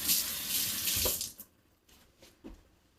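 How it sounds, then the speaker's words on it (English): Kitchen sink tap runs steadily for just over a second while food is rinsed for eggplant parmesan, then cuts off, leaving a few faint drips and clinks; close and fairly loud, no talking. "let me rinse real quick"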